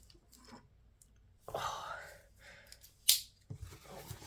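A cardboard package containing a Faber-Castell art supply box being cut open, with quiet snipping and slicing, a sharp crisp cut in the middle, and soft rustling, under a faint quiet voice.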